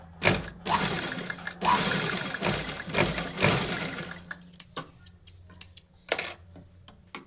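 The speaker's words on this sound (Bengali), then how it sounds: "আমি মেশিন সেলাই দিয়ে নিচ্ছি" Sewing machine stitching blouse fabric, loud rapid whirring bursts in several runs followed by short clicks and taps as the work pauses, no speech.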